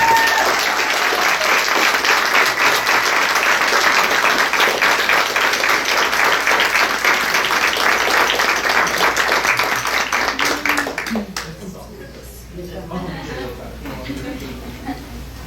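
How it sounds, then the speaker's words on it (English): Applause from the audience at a school district board meeting, broad and steady clapping filling the room for about eleven seconds before it fades into murmuring and a few scattered claps. "we give them a round of applause."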